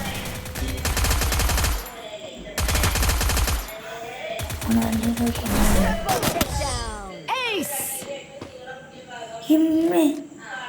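Free Fire match gunfire comes in loud, close automatic bursts, then scattered single shots and effects, while players talk over the action.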